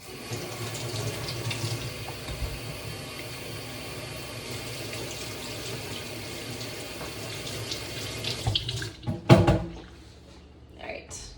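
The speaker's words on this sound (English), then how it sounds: "let me wash my hands real quickly" Tap water runs steadily into a kitchen sink as hands are washed, a continuous splashing hiss that ends with a few louder splashes and clatters near the end.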